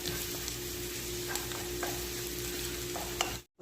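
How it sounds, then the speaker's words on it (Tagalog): Garlic fries in hot oil, a close, continuous sizzle with light crackles and occasional stirring clicks, ending abruptly. "At dahil mainit na nga yung ating mantika, ilagay natin yung ating garlic."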